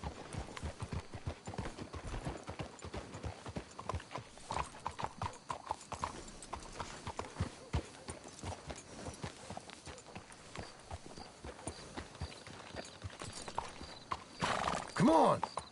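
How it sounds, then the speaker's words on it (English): Horses in Red Dead Redemption 2 clip-clopping at a steady walking pace, hoofbeats faint and regular throughout, ending with a brief neighing whinny near the close. "Let's hitch the horses up ahead"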